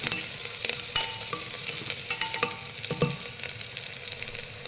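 Chopped garlic dropped into a hot frying pan for dal khichdi: a steady bright sizzle with scattered stirring scrapes and taps throughout, close and fairly loud.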